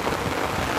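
Heavy rain pours down in a steady, dense wash of hiss and patter, loud and unbroken for under a second.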